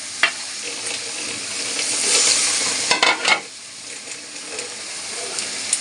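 Ginger powder and cumin paste being stir-fried in a pan, a bright continuous sizzle with sharp spatula scrapes and clanks, a burst of louder hissing around the middle.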